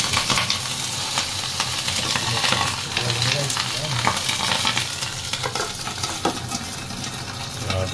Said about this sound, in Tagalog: pumuputok yung sinastir fry natin